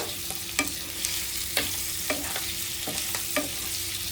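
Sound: chicken frying and being stirred in a pan

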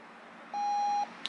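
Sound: hearing protector power-on beep

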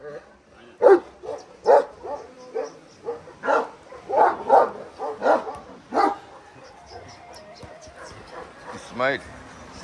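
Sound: Bully Kutta (Kangal) dog barking

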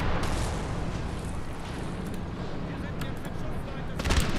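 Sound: musket volleys in video game Napoleon Total War

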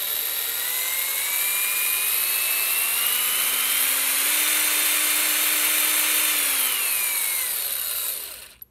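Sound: power drill running, speed varied by trigger pressure

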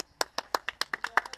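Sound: applause for kart race winner

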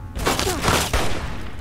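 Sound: gunfire in Fallout video game

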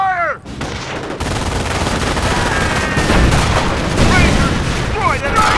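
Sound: enemy gunfire and explosions in video game Company of Heroes

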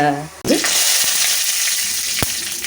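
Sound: ridge gourd sautéing in oil for fried rice

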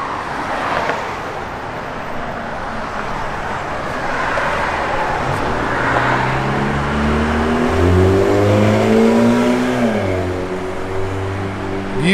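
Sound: 1970 Chevrolet CST10 big block engine with Borla exhaust

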